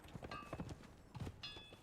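Horse hooves clip-clopping in the video game Conan Exiles, a few soft, uneven hoof thuds close by, faint against quiet in-game ambience.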